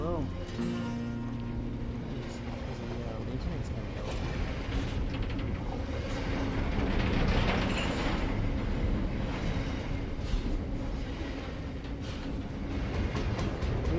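A train rumbles past steadily, with a continuous rolling roar and faint rhythmic clatter; a voice hums along near the start.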